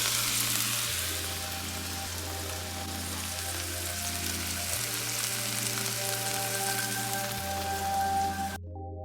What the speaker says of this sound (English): So I'm pan searing it with a little bit of oil, just a little bit, not a whole lot. You see? Just enough to make it sizzle and pop.